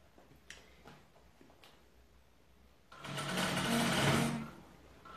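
Sewing machine stitching around a fabric bag: a few light ticks and taps, then a single close, buzzing run of stitching for about a second and a half that starts and stops cleanly.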